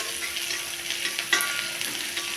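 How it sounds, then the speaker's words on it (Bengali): Onions frying in hot oil in a pan with a little salt added: a close, continuous crackling sizzle with a brief scrape of a spatula midway, no voices. "এখন আমি এই পেঁয়াজ ভাজাতে হালকা করে আমি নুন অ্যাড করে দেবো"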